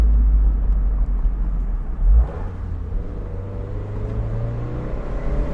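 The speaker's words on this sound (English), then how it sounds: "Plenty of acceleration." A 2003 Toyota MR2 Spyder TRD with a five-speed gearbox accelerates on a quiet back road. A steady low engine rumble and road noise carry a faint rising engine tone near the end, with no talking.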